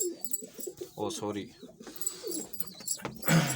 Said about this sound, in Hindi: कबूतर के बच्चों की आवाज़ आ रही है जी।